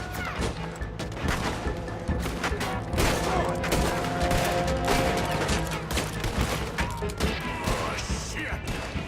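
Rapid, relentless Gatling gun fire in Red Dead Redemption 2 during a Saint Denis battle, loud and continuous, with crashing impacts, scattered shots and chaotic combat noise layered throughout.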